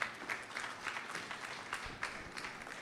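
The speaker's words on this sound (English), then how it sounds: "Another round of applause, please." Faint, patchy applause from the audience at a Caribbean population and development forum closing ceremony, thin and uneven with scattered claps rising and fading.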